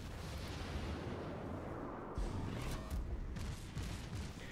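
Naval guns of the cruiser USS Phoenix in World of Warships boom in several heavy, rumbling salvos over continuous dense battle noise, loud and close.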